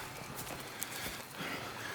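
Horses walk with soft, faint clip-clop hooves in Red Dead Redemption 2, heard under steady outdoor game ambience as riders approach a ranch.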